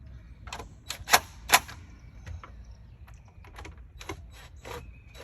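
A hand wrench tightens the hydrofoil mounting bolts on a pontoon boat, giving a series of sharp, close metallic clicks and ratcheting ticks in irregular bursts, with two louder clanks early on.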